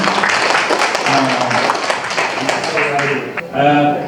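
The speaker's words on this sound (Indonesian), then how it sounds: "Bapak Ibu tepuk tangan dulu semuanya." Audience at an indoor sharing session clapping, a dense patter of applause mixed with voices, a speaker's voice coming through near the end.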